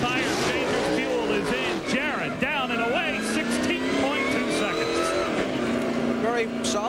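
A NASCAR Winston Cup race car at Pocono Raceway leaves the pit stop under race engines and tire squeal, with a commentator talking over the noise throughout.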